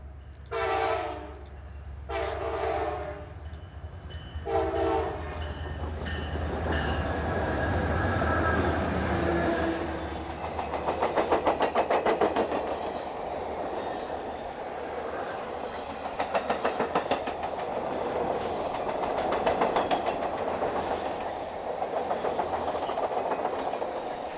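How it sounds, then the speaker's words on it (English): The CSX Office Car Special train crosses the diamond where the Wheeling line meets CSX at Wellington, Ohio, sounding three distinct horn blasts before the cars roll through with steady clickety-clack over the rails. "OCS train coming across the diamond where the Wheeling meets them here in Wellington."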